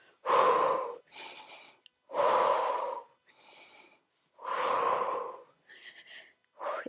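Sharp, forceful exhaled breaths during an abdominal workout, three strong blows at an even pace with quieter breaths between, close and without speech.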